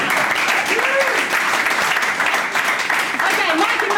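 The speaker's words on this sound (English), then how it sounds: "Give a round of applause, guys." A live comedy panel-show audience bursts into steady, dense applause that fills the room, with a few voices and whoops rising over the clapping.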